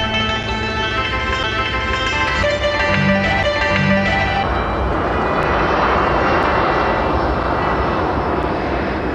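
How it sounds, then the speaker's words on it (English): Airbus A340 airliner engines roar steadily and loudly throughout, a broad continuous drone with tonal whine layered on top, no voices present. "The Airbus A340 has the longest range of any plane in the world."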